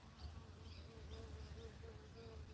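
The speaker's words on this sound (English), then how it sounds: "Oh my goodness, it's a little bumblebee." A small bumblebee buzzes close by outdoors, a steady low drone running unbroken through the moment, with a few faint bird chirps higher up.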